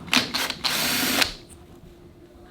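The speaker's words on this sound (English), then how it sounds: "Since there are 8 screws, you should use a power tool like this." A loud, close power drill drives screws on an Abyzz aquarium pump in several short bursts, then one longer sustained run before stopping.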